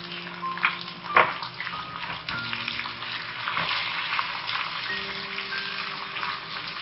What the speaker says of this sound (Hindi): अब मैं इसके अंदर शामिल कर रही हूँ कीमा।